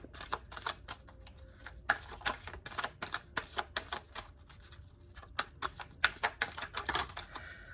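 Tarot cards being shuffled, a quiet, rapid, irregular run of close crisp flicks and taps with short pauses, sounding without any voice.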